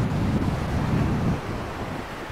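Ocean surf rolls steadily onto Kovalam beach in Kerala, a continuous near wash of breaking waves mixed with wind buffeting the microphone, no voices present.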